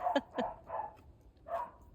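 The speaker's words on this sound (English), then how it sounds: "And the dog next door is barking." A neighbour's dog barks four times in short, moderately distant yaps, faint and spaced irregularly over a quiet indoor background.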